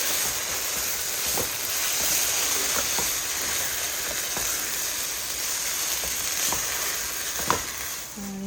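Quinoa, vegetables and shrimp being stirred together in a hot pan, giving a steady sizzling hiss with a few soft clinks of the utensil against the pan and no talking.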